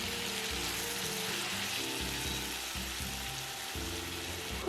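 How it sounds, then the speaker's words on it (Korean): Enoki mushrooms stir-frying in a pan give a steady, dense sizzle with a low rumbling undertone and some clattering, continuous and close throughout with no talking. "세척한 팽이버섯 넣고 볶아줍니다"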